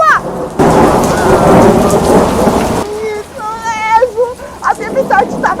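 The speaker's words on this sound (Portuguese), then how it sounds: "A tempestade estava cada vez pior." A thunderstorm sound effect in a story: loud rumbling thunder with heavy rain fills the first seconds, then fades to lighter rain under tonal sounds and voices.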